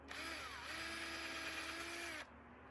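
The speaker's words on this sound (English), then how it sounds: "Hopefully my drill is charged up enough because I got a whole bunch to do." A cordless drill bores a tap hole into a maple tree outdoors: one continuous high whine lasting about two seconds, its pitch wavering slightly under load before cutting off abruptly.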